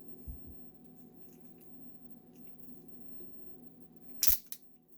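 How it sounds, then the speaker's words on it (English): Ratchet hip joints on a Play Arts Kai Tifa Lockhart action figure give a short burst of crisp plastic clicks near the end, after one faint click early on, against a quiet room background. "You can hear the ratchets."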